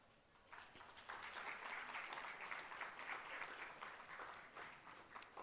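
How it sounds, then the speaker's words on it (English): Audience at a children's literature festival applauding the panelists, a steady dense wash of clapping that swells in after a quiet start and holds evenly throughout. "Can we have a huge round of applause for our panelists?"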